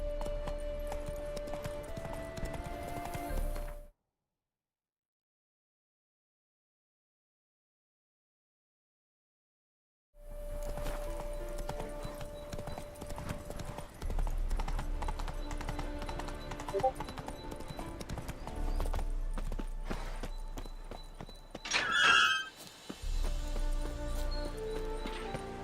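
Roach the horse's hooves clip-clop along in The Witcher 3, a steady trotting rhythm under game music, cut by a few seconds of total silence before the hoofbeats and score resume.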